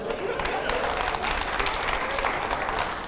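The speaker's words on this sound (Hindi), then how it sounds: "चलिए, जोरदार तालियां हो जाए" Studio audience applause during a televised interview with an Indian foreign minister, a steady dense patter of many hands clapping at moderate loudness, with a voice faintly under it.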